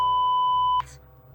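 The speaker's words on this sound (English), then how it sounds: "Obscenities were covered by another beep." A single steady censor beep, a pure electronic tone held for about eight tenths of a second, cuts off abruptly over a faint background in the forest horror game Tiny Bunny, followed by a brief soft rustle.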